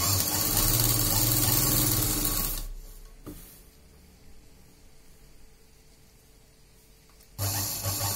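A sewing machine stitches a seam on Bermuda half pants, whirring loudly and steadily, then pausing into a quiet stretch before the motor starts up again abruptly.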